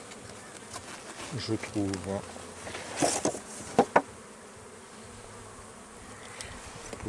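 Honeybees buzz during a hive inspection on a fine day, a faint steady drone under handling noises, clunks and a brief spoken remark, with a few sharp knocks midway.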